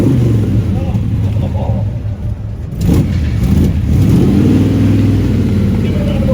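A car at a Sporting Bears charity car event drives away, its engine note rising and revving under loud crowd chatter and talk nearby, fading slightly partway before swelling again.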